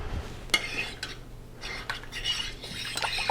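A spoon stirs cornstarch into water inside a slow cooker, making soft scraping and light clinks against the crock at an uneven pace, close and fairly quiet, with no talking.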